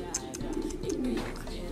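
Soft, low pigeon cooing repeats steadily nearby, with faint chirps from other birds in the background.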